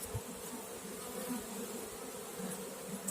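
Honey bees buzz in a dense, steady, close hum during a spring hive inspection, with no talking heard.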